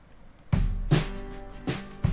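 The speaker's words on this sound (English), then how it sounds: "You can hear there is a lot of kick and snare present in the overheads." Unprocessed drum overheads from a full-song mix, with kick and snare bleeding in strongly: a few loud, spaced hits with deep low thumps and bright cymbal wash, heard alone.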